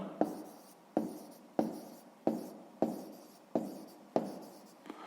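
A pen scratches out a sixth-grade math answer on paper in seven evenly spaced strokes, each a sharp onset fading into a soft scrape, close and quiet with no talking.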